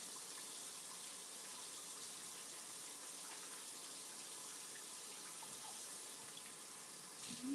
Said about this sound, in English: I do need to rinse off my veggies though.